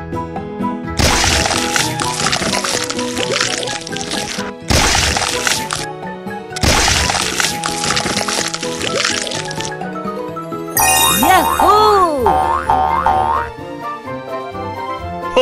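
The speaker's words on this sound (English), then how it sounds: "Help Chris pour the concrete." Cartoon sound effects for wet concrete being poured in a children's song about construction and vehicles: splashy, squishy bursts in separate rounds, then bouncy springy boings, all over a cheerful music backing.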